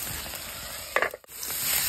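Red ants frying in a well-used three-year-old wok give a steady, close sizzle, broken around the middle by a brief clatter of stirring and a moment's dip before the hiss resumes.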